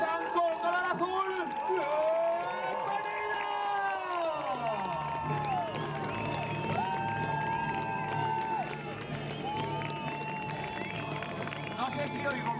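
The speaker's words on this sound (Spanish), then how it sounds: "No sé si oigo más los aplausos o los pitidos." Crowd at a medieval jousting festival in Hospital de Órbigo, León, cheering, clapping and whistling in a loud sustained wash, with shouts and whistles rising over the din.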